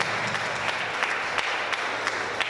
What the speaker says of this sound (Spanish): Aplauso, aplauso para la joven quinceañera.